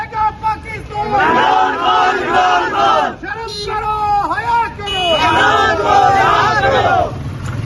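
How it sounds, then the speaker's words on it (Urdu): A crowd chants slogans outside Adiala jail in loud, rhythmic bursts of many voices, with a short break near the middle before the chanting surges again. "اڈیالہ جیل کے باہر نعرے بازی کی جا رہی ہے جی."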